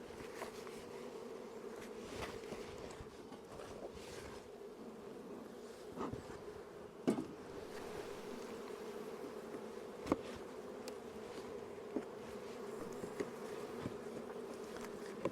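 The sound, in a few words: honey bees buzzing around a strong beehive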